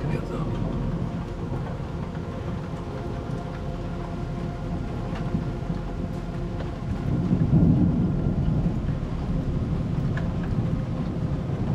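Thunder rolls through a thunderstorm on 1 May 2024, a steady low rumble over constant background noise that swells louder about two-thirds of the way through before settling again.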